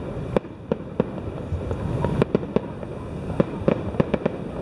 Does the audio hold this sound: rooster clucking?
no